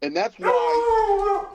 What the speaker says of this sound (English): there's a dog. Yeah, that's our dog.